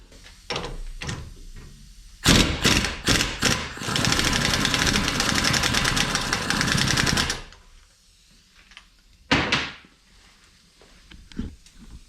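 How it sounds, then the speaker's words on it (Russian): An impact wrench rattles in a loud sustained burst of rapid hammering for about five seconds, on a nut on the final drive of a BMW R1100/R1150 motorcycle, with a few sharp mechanical clicks and clanks in a quiet workshop before and after. "Можно выкрутить также гайковертом."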